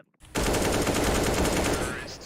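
A loud, sustained burst of rapid automatic gunfire in CS:GO starts abruptly after a short silence and hammers on close and unbroken before easing slightly at the end.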